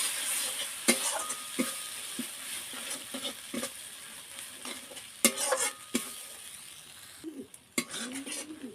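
A spice paste with ground green chilli and sugar is stirred and fried in a pan, a soft sizzle under intermittent scrapes and clanks of the spatula, some louder knocks near the end.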